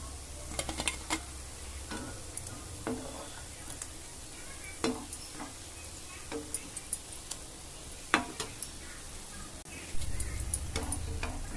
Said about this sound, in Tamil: இதே மாதிரி ஒன்றா எண்ணெயில் போட்டு 2-3 போட்டு பொரிச்சு எடுத்துக்கங்க தான்.